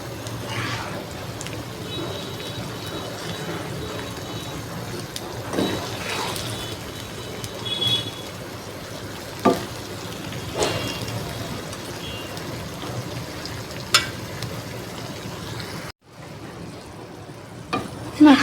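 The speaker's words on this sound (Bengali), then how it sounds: "কচুলতিটা একটু নাড়া দিয়ে দিব হালকাভাবে," Taro stolons cooking with prawns in a spicy pan, stirred gently through a steady frying sizzle, with occasional soft scrapes and clicks of the spoon; the sizzle cuts out briefly near the end.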